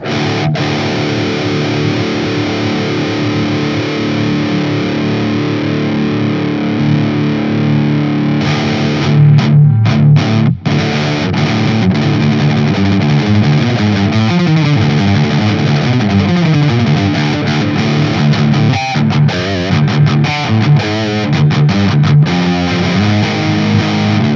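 Heavily distorted electric guitar through a BOSS GX-100 processor plays continuously, a clean-ish tone at first that turns gritty and saturated, with dense chords and riffs throughout.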